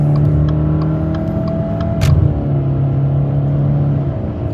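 A 2021 Subaru Ascent's turbocharged engine and CVT pull steadily as the SUV accelerates to pass a car, with a continuous droning engine tone and road rumble throughout and a short louder whoosh midway.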